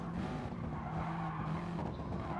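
Race cars in Gran Turismo Sport, close racing through a chicane: a continuous dense engine drone with tyre scrub and skidding, loud and steady for a couple of seconds, no voice over it.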